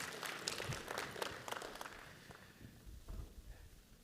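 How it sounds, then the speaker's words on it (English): Audience applause at a talk, a faint patter of clapping that swells briefly and then fades out over a few seconds. "you deserve a round of applause"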